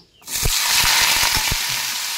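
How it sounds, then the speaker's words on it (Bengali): Lentil bori drop into hot oil in a small wok and burst into a loud, close, steady sizzle, with a few clicking taps of a spoon at the start. "এবার এই বড়িগুলি ভেজে নেব"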